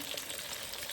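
Water poured into a frying pan where fish cakes are cooking, a steady soft splashing and sizzle lasting about a second at moderate level, with no talk.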